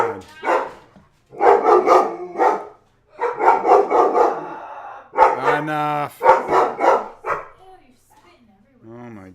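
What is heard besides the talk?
dog barking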